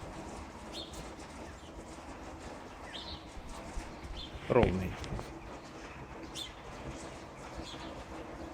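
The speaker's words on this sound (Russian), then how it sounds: "Птицы поют." Birds sing faintly in the open air on an April day near a wet roof and puddles, with brief chirps and coos scattered behind a person talking and a soft background hiss.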